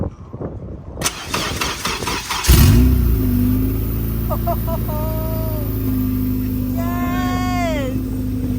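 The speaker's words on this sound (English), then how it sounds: "this is the first start for our right-hand drive, Integra Type R" A right-hand-drive Honda Integra Type R engine cranks with rapid starter clatter, then fires up loudly and settles into a steady fast idle with a brief rev, while a cat meows several times in the background.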